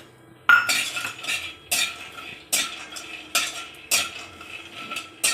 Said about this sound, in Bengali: এবার আমি বাদাম কটা ভেজে নেব।